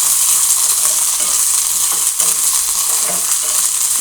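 Sweet corn kernels frying in hot oil, a loud, dense, continuous crackling sizzle with occasional scraping from stirring, close up and steady for a few seconds without any talking.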